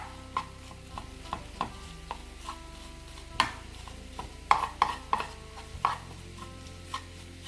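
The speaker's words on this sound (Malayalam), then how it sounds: "ഇനി ഈ മുട്ട നമുക്ക് ഒന്ന് ഇളക്കി കൊടുക്കാം. നന്നായിട്ട് ചിക്കിയെടുക്കാം." A spatula stirs and scrambles egg in a pan for a vegetable thoran, with scattered light scraping clicks and a few sharper taps against the pan over a faint quiet sizzle, no voices.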